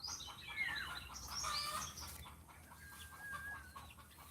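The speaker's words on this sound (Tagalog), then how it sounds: "Yan yung manok ng itlog na." Faint clucking and squawking from egg-laying hens nearby on a farm, irregular bursts of hen calls with some chirping birds in a quiet outdoor background.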